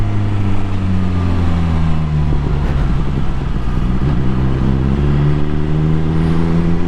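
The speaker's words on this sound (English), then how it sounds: "when you start getting up into the sort of the higher rev range, the engine's working harder" A BMW S1000XR motorcycle engine revs up into the higher rev range, a loud, close, steady mechanical drone with rising harmonics and no talk.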